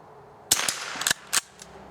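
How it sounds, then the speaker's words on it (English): Sellier & Bellot Club .22 rounds fired at a swinging steel target outdoors: four sharp, fairly faint cracks in quick, uneven succession, each with a short tail. "let's shoot at that target again there on the right"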